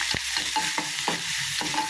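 Onions sauté in hot oil, giving a steady close sizzle broken by a few scraping stirs of a spoon against the pan, with no voices.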